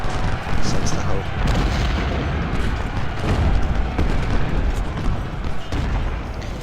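Artillery fire booms in the Civil War strategy game Ultimate General, a continuous dense rumble of cannon shots and impacts layered under a commentator's voice.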